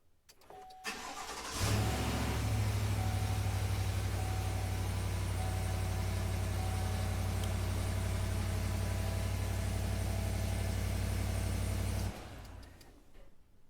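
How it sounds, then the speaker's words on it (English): A Chevrolet Silverado pickup cranks and its engine catches, then settles into a steady, fairly loud idle for about ten seconds before cutting off, with no talk. "now we should be able to start the vehicle as normal"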